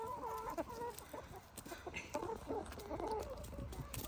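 Several chickens cluck and chatter in short, overlapping bursts, fairly close and steady throughout.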